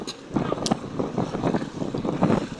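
A motorboat engine at sea drones steadily over rushing wind and splashing water, with a faint voice briefly in the background.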